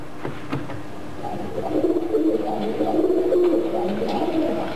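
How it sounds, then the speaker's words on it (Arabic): A pigeon coos in low, soft, repeated murmuring calls, steady and close, over faint background noise. "صح، صوت الحمام."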